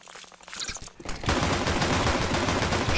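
Rapid bursts of automatic gunfire in CS:GO on the Inferno map, sparse shots at first, then a dense, loud, continuous barrage filling the second half.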